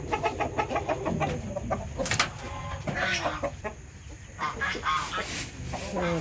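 A flock of large chickens clucks repeatedly nearby in Zambales, Philippines, with a few sharper squawks and brief murmurs of voices in the background.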